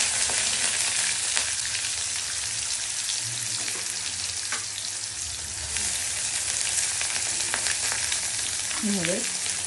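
Onions fry in hot oil for a Bengali fish curry, a continuous close sizzle with occasional soft pops and stirring taps, and a brief high squeak near the end; no talking.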